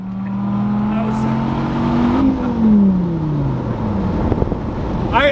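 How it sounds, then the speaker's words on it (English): A Dodge Viper engine revs hard and loud from inside the car, its pitch climbing before a sharp drop at a quick power shift, then pulling strongly again. "Oh, that was a power shift, baby."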